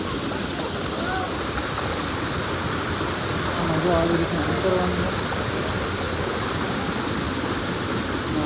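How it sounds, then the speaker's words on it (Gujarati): A waterfall by the Jatashankar temple on Girnar mountain gives a steady, broad roar of falling water that fills the scene, and someone speaks briefly over it. "આ ધોધ પડે છે ને એ આખો નજારો"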